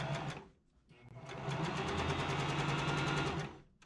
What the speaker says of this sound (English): I machine sew a gathering row into the top of the ruffle with loose bobbin stitches